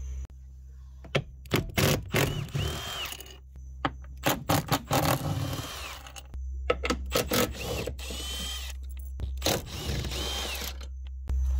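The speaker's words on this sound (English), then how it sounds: "We're gonna remove these bolts, we're gonna remove the seat" Power tool bursts work the seat bolts loose in a Honda Fit, with several short, loud whirring runs separated by pauses and metallic clinks up close.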